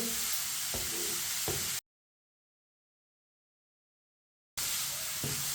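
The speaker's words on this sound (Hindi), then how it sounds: "एक प्याली शिमला मिर्च बारीक कटी हुई डालेंगे। इसे भी साथ मिक्स कर लेंगे।" Chopped capsicum being stirred into a Chinese kebab mixture in a hot pan: a steady sizzle with a few spoon scrapes, cut off midway by a silent gap before the sizzling resumes.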